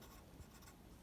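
Pen writing out music theory rules for key signatures on paper, a soft continuous scratching of pen on paper, close and quiet with no talk.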